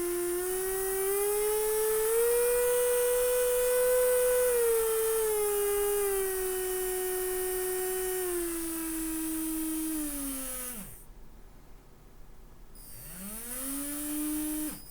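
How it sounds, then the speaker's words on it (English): A small DC motor driven through an L298N board by an ESP32 whirs steadily at high speed, its pitch slowly rising and falling, then winds down, stops for about two seconds and spins back up, heard alone and close. "Now the motor is running."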